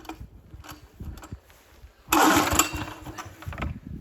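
A walk-behind tractor engine being cranked after winter, with a few faint, uneven pulls followed by a sudden loud, rough burst of engine noise that sputters on and fades.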